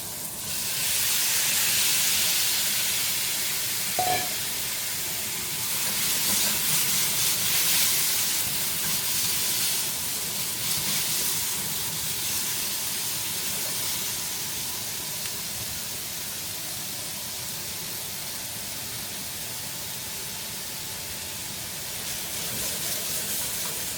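Beef sautéing for kaldereta gives a steady, bright, hissing sizzle that runs unbroken throughout, loud and close with small shifts in intensity.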